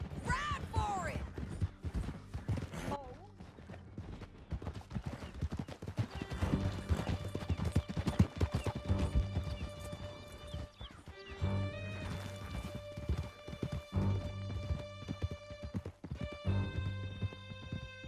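Hooves clip-clop steadily as horses ride through a canyon in Red Dead Redemption 2, with a horse neighing, rushing game ambience and a sustained musical score, and voices talking over parts of it.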